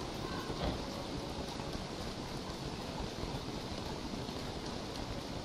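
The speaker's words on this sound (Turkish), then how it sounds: "Çok yağmur yağıyor bu haritada." Steady rain hisses as an even, soft wash of noise in the video game Don't Starve Together, continuous and fairly quiet with no talking.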